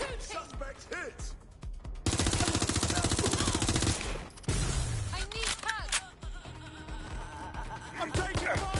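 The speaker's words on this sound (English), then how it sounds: "I'm taking fire! Careful! Shots fired!" Rapid automatic gunfire from the video game Watch Dogs, with bursts of loud sustained shooting broken by single shots. Voices shout over the firefight.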